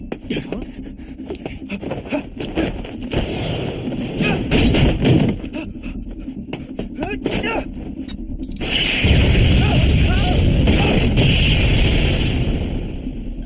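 In an anime episode, a bomb blast erupts amid loud, chaotic rumbling and debris, followed by a sustained roaring wash of noise and crackle.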